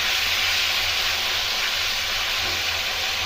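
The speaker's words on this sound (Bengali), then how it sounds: "অল্প ভাজবো সব আমি" Tomatoes and mushrooms for a vegetarian chilli mushroom dish fry on a high flame, giving a steady, loud, close sizzling hiss that holds without a break throughout, with no talking over it.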